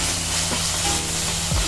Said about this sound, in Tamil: இந்த இஞ்சி பூண்டு பேஸ்ட்டு பச்சை வாசனை போகிற வரைக்கும் இதை வந்து வதக்கிக்கோங்க.